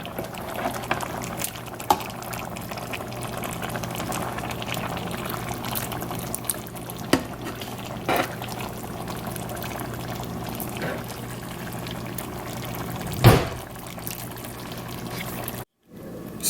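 Korean pork neck bone soup, gamjatang, ladled over white rice, a soft continuous pour and gurgle of broth with a few small clinks and one brief louder splash near the end.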